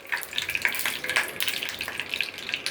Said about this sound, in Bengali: আমি সর্ষের তেল দিয়ে রান্না করতেছি